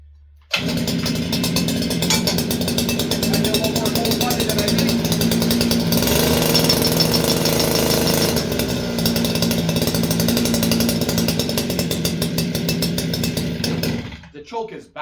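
A small engine bought from Temu starts abruptly and runs loud and buzzy at a steady high idle, close up, for about fourteen seconds before cutting out, with occasional talk under the noise.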